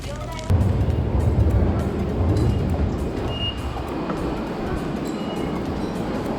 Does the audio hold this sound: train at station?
yes